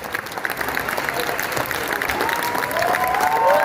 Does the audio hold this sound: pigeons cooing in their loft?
no